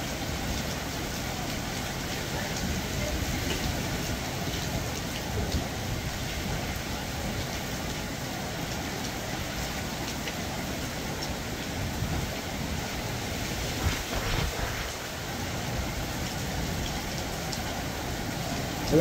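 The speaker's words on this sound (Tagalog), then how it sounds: "Grabe itong bagyo na ito." Heavy typhoon rain pours steadily and loudly during Typhoon Mando, a dense unbroken wash of falling water with gusty noise throughout and no voices.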